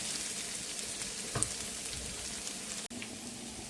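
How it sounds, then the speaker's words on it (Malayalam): Fenugreek seeds dry roasting in a pan give a steady, close, dry sizzling crackle that runs throughout, with one brief stirring scrape partway through and no talking. "ഇത് ഞാൻ കുറച്ച് ഉലുവ ഡ്രൈ റോസ്റ്റ് ചെയ്യണതാണ്."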